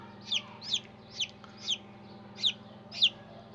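A chick peeps repeatedly, six short high chirps at a steady, unhurried pace, close by over a low background hum.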